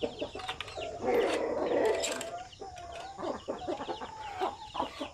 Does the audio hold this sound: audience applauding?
no